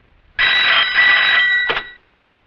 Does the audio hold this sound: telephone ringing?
yes